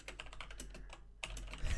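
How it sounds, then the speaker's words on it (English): Rapid clattering keystrokes on a mechanical computer keyboard, close and steady throughout with a slightly louder burst near the end, no voices. "I picked up a mechanical keyboard."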